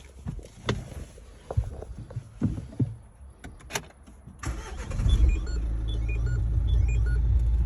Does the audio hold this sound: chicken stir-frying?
no